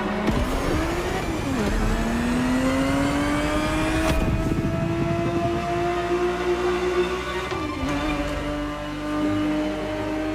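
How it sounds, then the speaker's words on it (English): A Ferrari 365 GTB4 engine in The Crew Motorfest racing game revs hard and climbs steadily through the gears, with loud, continuous rising engine tones, a brief dip at each shift, and no talking. "The Ferrari 365 GTB4 is the perfect vehicle for you to experience Ferrari racing as it felt back in the 70s"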